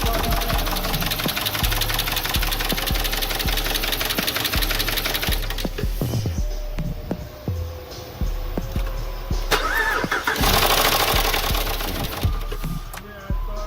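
A HEMI V8 engine with cam and lifter wear runs at idle, a busy rapid mechanical ticking and clatter over a steady rumble, close and loud, with brief talk mixed in.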